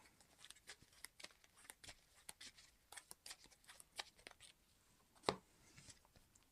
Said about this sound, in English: so we're going to shuffle our Vibranium back in